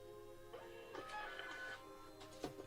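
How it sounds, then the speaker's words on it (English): An office printer runs in the background of a phone call, faint mechanical whirring broken by several short clicking and feeding bursts in an uneven rhythm, quiet and distant. "Sorry, I heard a printer in the background."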